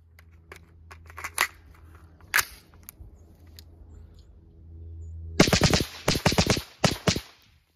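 Suppressed 5.56 rifle fired at an outdoor shooting range: a burst of several sharp, fairly close shots in quick succession, with a few isolated snaps and clicks before it.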